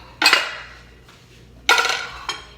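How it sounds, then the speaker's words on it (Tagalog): Dishes and cutlery clinking and clattering during washing up after a meal, in two loud bursts of clatter separated by a quieter pause, with a final lighter clink. "Maghugas na ng plato."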